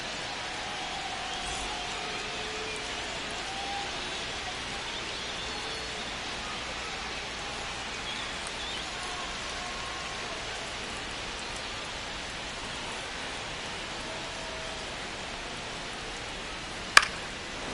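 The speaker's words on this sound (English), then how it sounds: "This rain is not letting up." Steady rain hisses down over a ballpark during a Tigers–Dodgers MLB game at Dodger Stadium, a continuous broadband wash with faint crowd murmur beneath and one brief sharp knock near the end.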